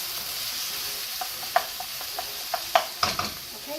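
White wine is splashed into a frying pan while making chicken Alfredo, giving a soft steady sizzle with a few sharp clinks and taps of a utensil against the pan, close and fairly quiet.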